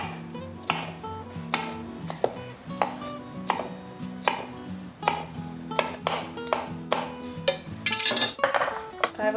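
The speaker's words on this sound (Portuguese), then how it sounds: "Aí eu vou cortar o pimentão em quadradinho" A knife chops bell pepper into small squares, a quick irregular run of sharp taps on a board mixed with light clinks of utensils, close up and with no talk.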